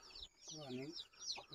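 Chickens clucking softly nearby, a few short warbling calls in quick succession.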